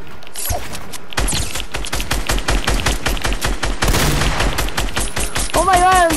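Rapid bursts of gunfire in the video game Fortnite, dense repeated shots firing in fast succession, loud and close, with game sound effects and a brief rising tone near the end.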